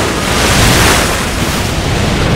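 Ocean surf at Malibu in a Barbie cartoon, a loud and constant wash of waves and wind rush that swells slightly and then holds steady, with no voices.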